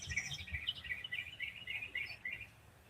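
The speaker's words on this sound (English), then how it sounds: "listening to the bird song" Faint outdoor birdsong with several chirping and tweeting calls in quick, uneven phrases, distant and alone with no talk.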